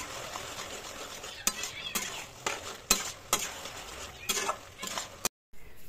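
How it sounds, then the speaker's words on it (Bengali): Chicken pieces for chili chicken being stirred in a pan, several sharp scraping knocks of a utensil against the pan over a light sizzle, ending in a short silence. "তো এরপর আমি এখানে চিকেনগুলো দিয়ে দেবো। খুব ভালোভাবে নাড়বো।"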